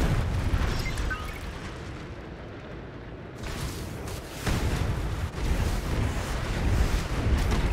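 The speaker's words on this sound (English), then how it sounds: "Those explosions are still like incredibly loud." Loud, rumbling explosions in the video game Anno 2205, a sustained roar with repeated heavy booms bursting close by.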